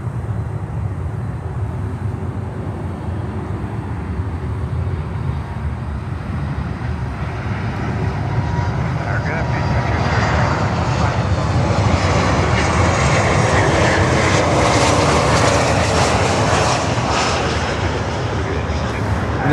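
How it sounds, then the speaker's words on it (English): An Air Canada cargo Boeing 767 jet flies near Miami airport, its deep engine roar swelling louder and brighter midway, with low voices talking underneath. "It looks like we get another Air Canada cargo 767 here."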